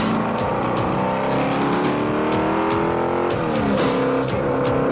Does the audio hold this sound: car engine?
yes